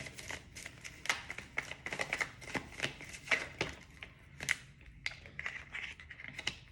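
Tarot cards being shuffled by hand, a close run of quick crisp riffling and slapping bursts in an irregular rhythm, fairly quiet and with no talking over it.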